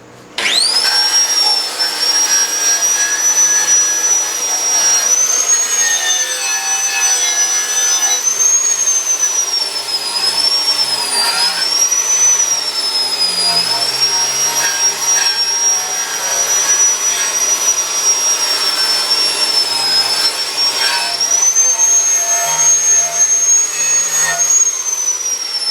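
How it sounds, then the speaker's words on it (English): A large grinder runs continuously and loudly, a harsh high-pitched whine with a wavering tone that holds for the whole stretch at close range. "that big grinder means business"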